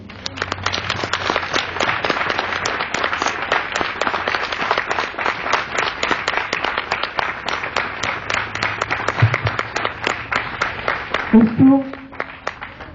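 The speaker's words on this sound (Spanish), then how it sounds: "¿Quieres darle un aplauso al Señor?" A church congregation gives a long, sustained round of applause during a sermon. Dense clapping from many hands carries on steadily for about eleven seconds, with a few scattered voices near the end as it fades.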